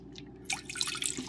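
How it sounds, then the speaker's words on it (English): Bottled water, about a quarter cup, poured into a pot while making chai, a short close trickle and splash that starts partway through and runs to the end over a low steady background hum. "I'm gonna add water. I'm gonna use bottled water"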